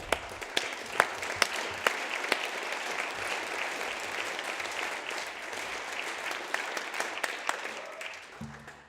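State House of Representatives chamber in South Dakota, legislators applauding a page: dense, sustained applause filling the room for several seconds, with a few louder individual claps standing out near the front before it thins out at the end.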